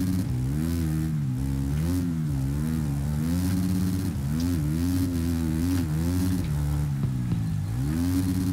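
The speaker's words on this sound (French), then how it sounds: "J'entends une moto ralentie derrière moi" Continuous motocross bike engine whine in the video game MXGP3, rising and falling in pitch with repeated revs, steady and sustained without pause.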